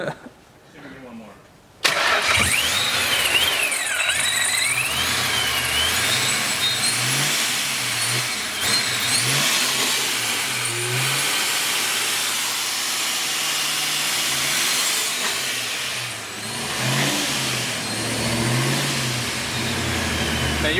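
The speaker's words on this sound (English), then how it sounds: "Man, you're barely revving it too." A car engine cranks over and catches, then runs loud with repeated revs, rising and falling in pitch; several people talk over the steady engine noise throughout.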